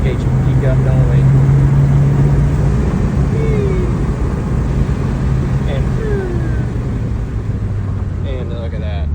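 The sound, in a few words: Subaru WRX engine accelerating with turbo boost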